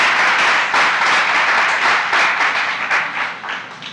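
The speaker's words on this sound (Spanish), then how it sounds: "Den una ofrenda de aplauso a nuestro Rey de Reyes y Señor de Señores" Congregation applauding during a Sunday church service, a steady wash of many hands clapping throughout, fairly loud and sustained, swelling and fading slightly toward the end.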